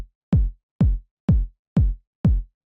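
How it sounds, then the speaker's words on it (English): Five evenly spaced Roland 909 drum machine kicks, each a deep punchy thump with a short decay, dry and isolated in silence. "If you don't know, the 909 is a drum machine by Roland."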